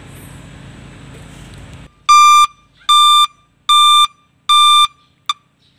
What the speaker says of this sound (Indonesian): Kita coba dulu untuk alarmnya, kita tes posisi gigi mundur mas bro.